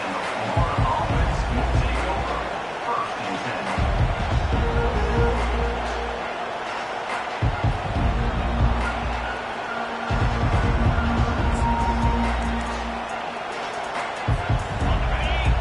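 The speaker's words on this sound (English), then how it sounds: "Listen to the crowd energy here in the early going." A college football stadium crowd at a Texas A&M versus Florida game roars and cheers in waves, broad and loud, with a commentator talking over it throughout.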